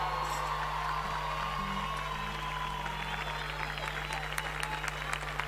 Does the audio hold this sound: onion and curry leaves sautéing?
no